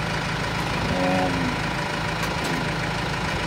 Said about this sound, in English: Hook up on the tractor and work it today.